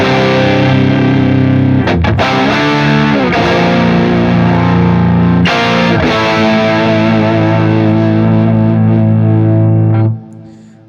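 Electric guitar through overdrive pedals, including a modified Tumnus, rings out thick, saturated chords and sustained notes, loud and smooth, with a couple of quick strums before fading at the end.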